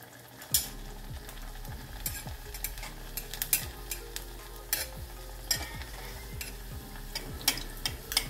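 Cheese corn mini samosas deep-frying in hot oil in a kadai, a steady close sizzle with frequent bubbling crackles and occasional sharp pops, with no talking.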